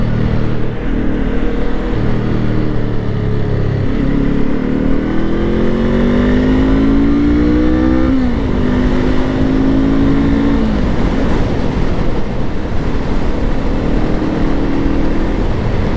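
A Honda SCL500 motorcycle engine while riding, a steady engine drone that rises in pitch as it revs through gears and then holds, heard continuously over wind noise, with no voices.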